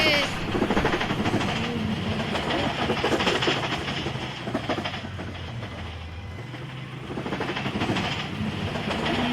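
A train rolling along in the Roblox game Build a Train, a steady clattering rumble of wheels and cars with a faint whistle-like tone, loud and continuous with a brief dip midway.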